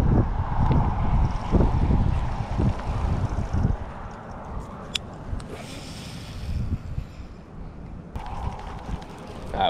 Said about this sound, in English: This wind is blowing straight in right here to this little pocket.